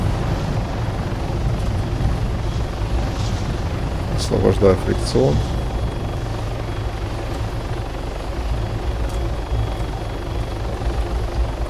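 A helicopter flies in the military game Arma 3, its rotor and engine making a steady, loud, low drone throughout. Someone speaks a few words briefly partway through.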